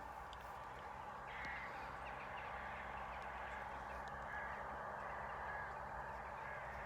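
Flocks of black birds fly through mist at Stonehenge, their faint, distant caws and honking calls rising over a steady outdoor hiss of wind and ambience.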